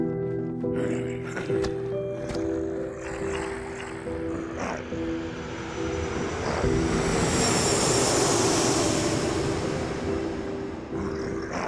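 A jet passing overhead in a zombie video game set at an airfield, a rising engine roar that swells to a loud, hissing peak midway and holds near, over steady background tones.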